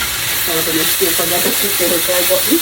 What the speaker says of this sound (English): So I'm going to just fry these up a little bit